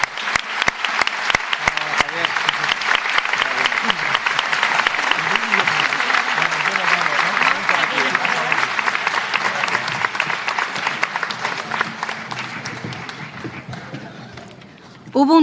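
A theatre audience at a jota folk festival in Elche's Gran Teatro gives loud, sustained applause with some voices in the crowd, then the clapping thins and fades near the end.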